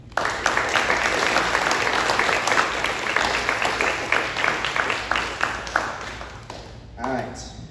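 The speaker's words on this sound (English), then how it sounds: "can we take a second to give a round of applause of all those people?" A crowd applauds loudly and continuously for several seconds, then the clapping fades out abruptly near the end.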